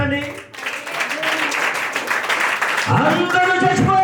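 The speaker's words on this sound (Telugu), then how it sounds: "గట్టిగా చప్పట్లు కొట్టండి" Audience clapping loudly in a church congregation, a dense sustained wash of hands that builds over four seconds, joined near the end by a voice speaking or singing over it.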